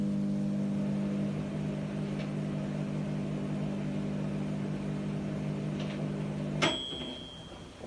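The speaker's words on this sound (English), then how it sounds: "Let's do a little bit of the microwave as well." A microwave oven runs with a steady low mechanical hum for several seconds, then stops with a sharp click and a short high beep.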